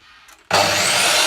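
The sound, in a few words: deburring cut aluminium tubing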